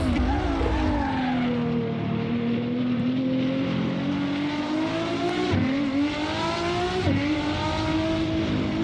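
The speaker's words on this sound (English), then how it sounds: "It sounds almost like a Formula One car in a way." Ferrari race car engine in the Assetto Corsa racing game, a loud high-revving scream holding steady and then dropping with quick downshift blips and rising again, continuous and close with no talking.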